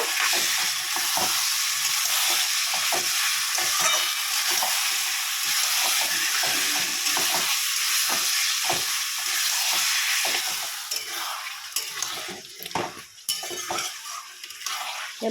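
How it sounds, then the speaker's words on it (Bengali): Chicken pieces sizzle with spices in a hot pan, a constant close frying hiss punctuated by rhythmic spatula scrapes and metal clinks as the meat is stirred and turned. "মাংসের সঙ্গে মশলাটা ভালো করে কষিয়ে নেব"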